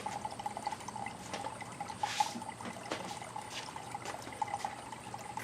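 Peak 10X coolant concentrate trickles and pours steadily from a jug into the cooling system of a 2019 Ford Edge 2.0 EcoBoost, a quiet, continuous liquid stream with faint gurgles.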